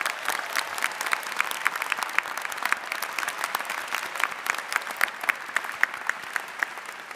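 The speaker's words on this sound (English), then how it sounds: "please give him a big round of applause" Dense, sustained applause from a large audience at the 2025 Michigan Ross commencement ceremony, an even wash of many hands clapping at once, loud and continuous throughout with no talking.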